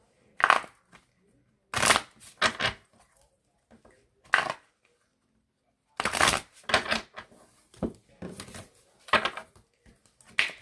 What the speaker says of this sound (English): Let's get the card shuffle really quick so we can get into the reading.